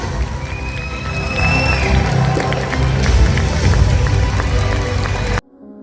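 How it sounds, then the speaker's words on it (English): A concert audience in Wellington rises to welcome a singer with sustained applause and cheering that swells and holds loud for several seconds, then cuts off abruptly. "please rise and give a thunderous round of applause to welcome the legend herself"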